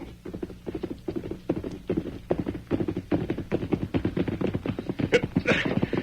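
Horse hooves clip-clop along a rough trail in an old radio western, a steady stream of quick, close taps in an even gallop rhythm that grows a little fuller toward the end.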